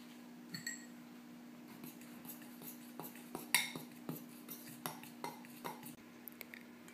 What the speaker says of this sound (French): Dans un autre récipient, mélangez la farine